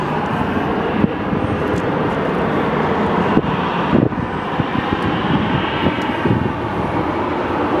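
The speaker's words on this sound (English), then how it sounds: "There goes that A321." An Airbus A321 with sharklets takes off from Phoenix Sky Harbor Airport, a steady broadband jet engine roar that stays loud and continuous throughout, with wind buffeting the microphone.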